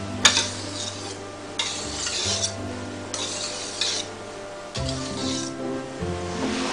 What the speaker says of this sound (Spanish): Y ahora, con movimientos suaves, lo vamos a ir removiendo.